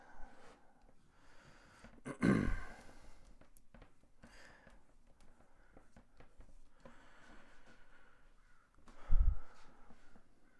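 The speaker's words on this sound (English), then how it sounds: "you hear that crow? I think that's a crow. It's going crazy." A crow cawing in a backyard, two loud harsh caws several seconds apart, closer than the quiet background of soft scratching and rustling.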